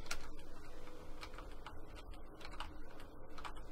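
Computer keyboard typing during a PC session of the NASCAR 14 racing game: quick, irregular clicks and taps close by, over a steady low game hum.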